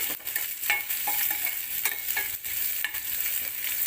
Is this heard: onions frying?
yes